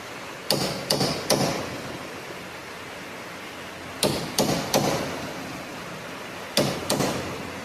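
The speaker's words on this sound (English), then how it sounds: "tap it in with a hammer." A hammer taps a punch to stake the spindle nut on a 2009 Honda Civic front spindle, heard as three groups of sharp metallic strikes, three, three and two blows, close and distinct over quiet shop background.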